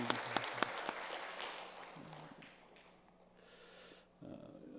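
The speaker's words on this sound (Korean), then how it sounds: "우리 격려의 박수" Applause for a church choir at a Christmas service: a few sharp claps up front, then a scattered patter of clapping that fades to quiet before the room sound returns.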